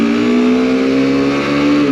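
A Mondial Flat Track 125 motorcycle engine droning loud and steady at high revs as it pulls through the gears, its pitch sagging slightly near the end, close by with no talking.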